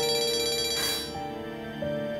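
A mobile phone rings with an electronic melodic ringtone, a steady tonal tune that carries on alone and close for about two seconds, no talk.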